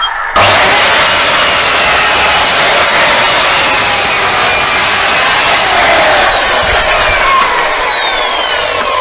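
A saw blade cuts through wood for a coat rack, a loud continuous buzzing roar that holds steady for about six seconds and then eases slightly as the cut finishes.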